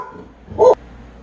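Several pet dogs indoors let out one short, loud bark or yelp at a passer-by, rising briefly out of a quiet room hum with no talk.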